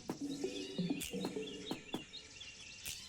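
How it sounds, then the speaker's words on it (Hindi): Short, clear chirps and whistled notes from an Asian Fairy Bluebird ring out in a forest, some repeated in quick pairs. Sharp clicks cut in between, and a faint hum lies underneath. "एशियन फेरी ब्लूबर्ड की आवाज मधुर और संगीतमय होती है।"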